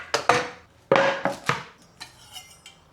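A big knife chops potatoes on a chopping board in a handful of sharp, close strikes, spaced irregularly and fading toward softer taps at the end, with no talk.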